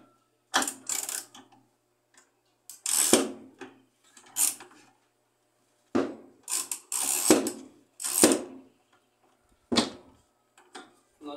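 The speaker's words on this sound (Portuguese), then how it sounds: "vamos soltar aqui alguns dois parafusos" Screws being loosened on the mechanism of a washing machine that will not spin, heard as scattered short metallic clicks and ratcheting scrapes in separate bursts with quiet gaps, close up and fairly crisp.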